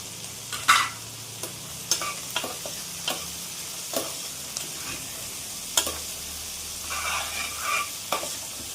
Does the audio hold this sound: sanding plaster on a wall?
no